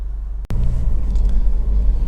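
A Honda CR-V 2.2 i-DTEC EX 4x4 diesel engine idles with a steady, close low rumble, briefly cut by a short dropout before the even drone resumes.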